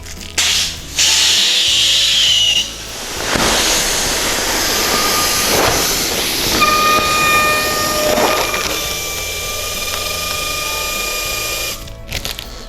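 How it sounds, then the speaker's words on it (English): Balloon orbs filled from a high-pressure gas regulator for a superhero party arch: a loud, steady rushing hiss that runs nearly the whole time, with a brief pause early on and faint squeaky rubbing of the balloon skin, no voices. "I'm going to take my orbs and just inflate with a high pressure regulator"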